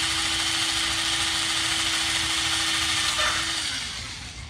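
A power drill drives self-tapping screws into a carbon fiber front splitter on a BMW M4, a loud steady whine that holds for several seconds, then slows and winds down at the end.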